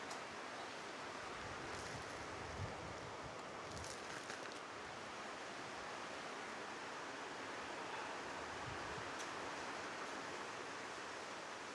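A constant, dense roar of heavy rain mixed with strong wind gusts, steady throughout without letup.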